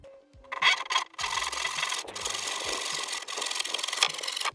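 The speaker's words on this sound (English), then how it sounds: "so I've got my timber over here, so I'll cut that one now" A hand saw cuts bent timber for garden lawn edging, a few short scraping strokes and then steady rasping sawing, close and fairly loud.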